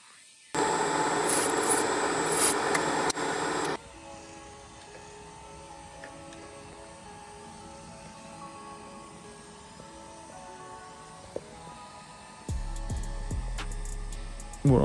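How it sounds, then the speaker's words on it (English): Machining cutter taking a light spring pass on Mercedes Unimog 406/U900 connecting rods: a loud grinding rasp for a few seconds, then a quieter steady machine hum with faint ticks, before a louder rumble returns near the end. "I'm just going to let it take another pass, a spring pass. Just clean off that cutter."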